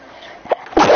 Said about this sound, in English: I scared the hell out of my dogs when I sneezed.